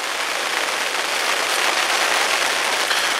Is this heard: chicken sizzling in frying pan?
no